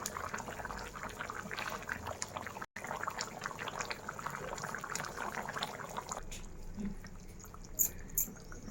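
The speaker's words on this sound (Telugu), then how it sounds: "పులుసు అయితే మరుగుతుందండి" Telugu crab curry gravy (peethala pulusu) simmers in a pot on the stove, giving a soft, steady bubbling that is faint throughout and eases off toward the end.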